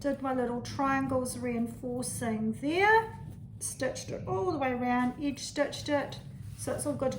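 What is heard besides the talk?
None of the usual background noises is heard.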